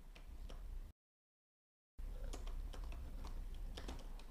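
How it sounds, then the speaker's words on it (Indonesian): Quiet clicks on a computer keyboard, scattered irregular keystrokes with a brief silent gap partway through, close and faint. "Misalkan kita ketik di sini"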